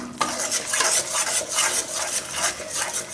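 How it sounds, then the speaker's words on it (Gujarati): Sorghum flour and grated coconut are roasted in a pan while a utensil stirs them, giving rhythmic scraping strokes against the pan about every half second over a soft sizzle, close and with no speech. "હવે આમાં આપણે નાખી દઉં નારિયેળનું છીણ. એટલે એ ભેગું શેકાઈ જાય."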